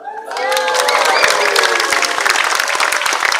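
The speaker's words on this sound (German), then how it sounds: "jetzt kommt einer ganz unerwartet spontan Applaus" An outdoor street-festival audience in Görlitz's old town bursts into applause for a juggling act after a brief silence, dense clapping mixed with cheers and shouts that stays loud to the end.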